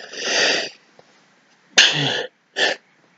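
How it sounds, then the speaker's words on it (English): A wet sneeze bursts out near the microphone, followed by a shorter second blast and a brief breathy sound, with quiet pauses between. "I feel like I have to sneeze"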